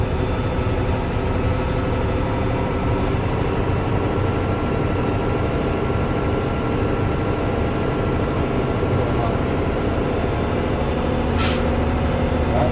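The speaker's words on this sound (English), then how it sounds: "That was my governor cutoff, indicating that my primary and secondary tanks are fully charged." Truck air brake system idling steadily with a loud, continuous hum, then a brief sharp hiss of air released by the governor cutoff once the primary and secondary tanks reach full pressure, on an older truck.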